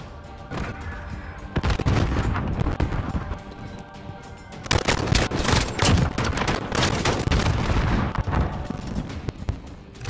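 Dense, loud bursts of automatic and rapid gunfire in Call of Duty: Modern Warfare, nearly continuous across the span with sharp volleys and booming impacts, no talk over it.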